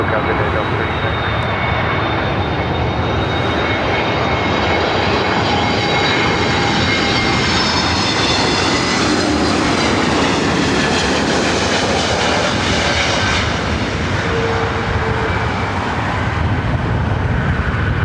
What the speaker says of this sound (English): Speedbird, the 777-300ER, coming in from London Heathrow